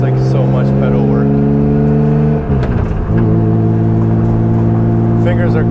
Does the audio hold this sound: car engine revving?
yes